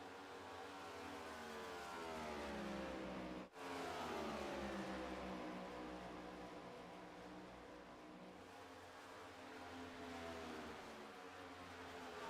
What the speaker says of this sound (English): we'll listen to these race cars as they get off turn number 2